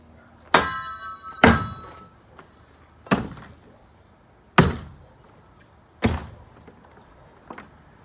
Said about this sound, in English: I'm going to do a couple of different strikes before I actually hit